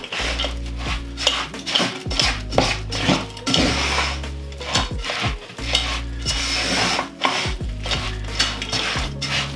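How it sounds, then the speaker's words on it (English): A thick peanut butter and jam flapjack mixture being stirred with extra porridge oats in a bowl, loud rhythmic scraping and knocking of a spoon against the bowl, continuous and close. "Let's give it a good mix."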